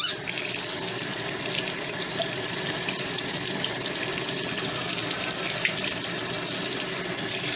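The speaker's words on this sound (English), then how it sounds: "Now you take a tomato. You gotta wash it." Running tap water streams steadily into a sink as a tomato is washed beneath it, a constant close hiss and splash with no speech.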